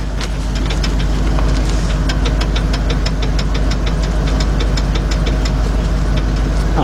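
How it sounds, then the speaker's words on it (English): 1996 Ford F150 pickup engine running nearby during front wheel bearing work, a loud, steady rumble with a fast, regular ticking knock throughout. "And you can hear the truck running over there."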